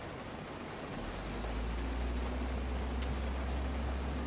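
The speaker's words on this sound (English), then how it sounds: "That's why I'm out here in the rain and not in my cab." Steady rain pours in the video game Road 96, a dense even hiss of drops with a low rumbling undertone, continuous throughout and broken only by a few faint taps.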